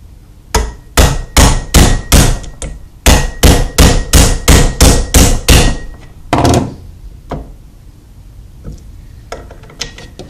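Hammer blows ring out in two rapid bursts of about five to seven sharp metallic strikes each, knocking a U-joint free from its yoke, followed by a few scattered thunks and clanks, close and loud with no talking.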